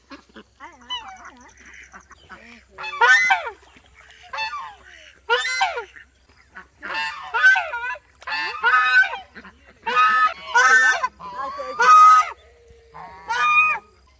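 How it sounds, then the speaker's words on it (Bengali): Ducks kept for laying eggs give repeated loud, nasal honking quacks in irregular bursts close by, nearly a dozen calls with short gaps between them. "দারুণ ডিম দেয় হাঁসগুলো।"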